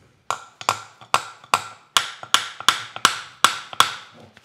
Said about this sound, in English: Let's see if I can tap that.